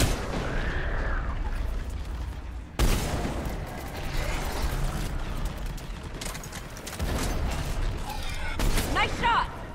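Sustained gunfire and heavy weapon impacts during a battle in Mass Effect Legendary Edition, dense and continuous throughout with bursts and booms, mixed with speech.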